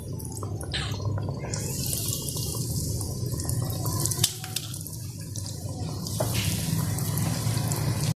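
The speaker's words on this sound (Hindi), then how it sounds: "अभी हम एक एक करके आराम से सारे पीस जो हैं वो फ्राई कर लिए।" Potato achar rolls fry in hot ghee in a kadhai, a steady close sizzling and bubbling hiss with small crackles, continuous throughout.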